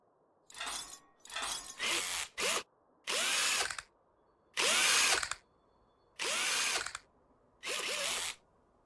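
Wheel bolts being unscrewed with a power wrench in the video game Car Dealer Simulator, heard as a series of about eight short whirring bursts separated by brief pauses, close and clear with no speech.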